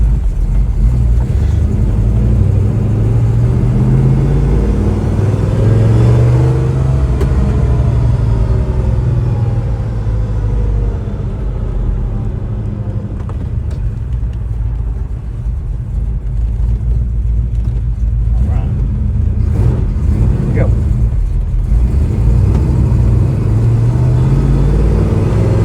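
A 1969 Chevrolet Chevelle Yenko tribute on a test drive: a deep, loud V8 rumble fills the whole stretch, rising and falling through revs and gear changes, heard from inside the car with no talk.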